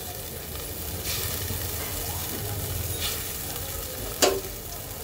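Fried fish is dropped into a simmering potato and broad bean curry, giving a continuous bubbling sizzle with a few soft stirring scrapes and one sharp clatter near the end.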